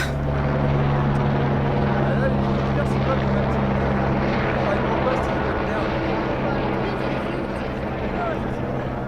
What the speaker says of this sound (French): Il va où d'après vous si tu veux ces hélicoptères?